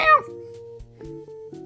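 A single short cat meow at the start, clear and close, followed by low steady tones with no talking.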